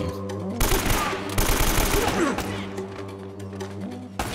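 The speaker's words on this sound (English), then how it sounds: "Is he shooting me from up top?" Gunfire in Uncharted: Drake's Fortune: loud rapid automatic bursts and dense shot volleys over a droning in-game music bed, easing into scattered fainter shots.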